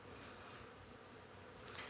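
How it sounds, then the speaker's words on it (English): Bees buzzing in a low, steady drone that stays faint and continuous, with no voices over it. "There's so many bees."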